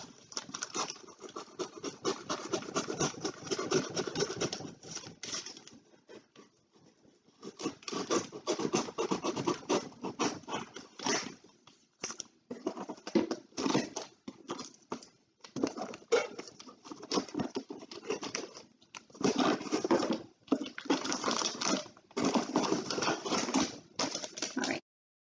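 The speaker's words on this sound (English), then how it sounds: "any little knife or box cutter would work for this" A knife or box cutter rasps through a cardboard box in a long run of close, scratchy strokes, steady bursts broken by short pauses, with no talking.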